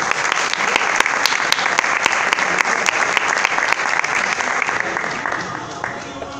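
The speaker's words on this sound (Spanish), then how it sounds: "el aplauso obviamente a Miguel" Steady audience applause fills an awards ceremony hall, dense and loud, with a voice speaking over it before the clapping fades slightly near the end.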